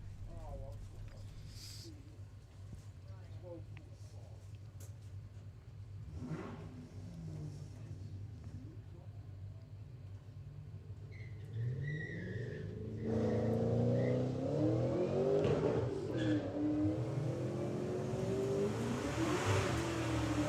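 At a drag racing meet, a Suzuki Swift and the Bad Penny Mustang rumble faintly at first, then swell into a loud roaring pass with revving engines and a rushing noise, under a race announcer's talk.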